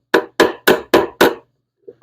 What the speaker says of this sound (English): I take a body hammer, and I just give them a love tap